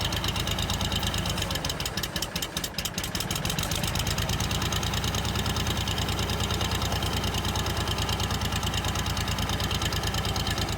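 An old yellow tractor engine runs steadily on a farm, a loud, even, rapid chugging knock with a brief rougher clatter early on, continuing unbroken throughout.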